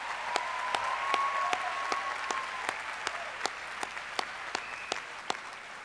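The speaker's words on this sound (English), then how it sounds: "Please join me in applauding the achievements of these accomplished students." Applause at a 2013 NCC graduation ceremony for graduating students, steady sustained clapping from a crowd with a few sharper individual claps standing out near the end.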